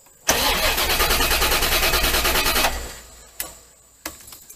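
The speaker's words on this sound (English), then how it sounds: "Now I'm going to crank it and it should come back on." C4 Corvette with a failing fuel pump: the starter cranks hard and loud for about two seconds, then the engine winds down into quiet with two sharp clicks afterward, heard up close with no talking.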